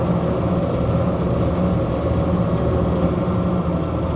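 Turkish Kirpi MRAP armored vehicle driving, a loud, steady low engine drone and road rumble heard from inside, continuous with no talk.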